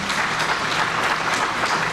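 An audience at an elementary school ribbon-cutting ceremony claps for teachers, a dense, even burst of applause from many hands filling the whole moment.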